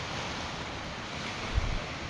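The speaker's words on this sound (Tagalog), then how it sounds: "Yan yung alon." Steady rushing surf washes over a constant windy roar, with one brief low thump near the end.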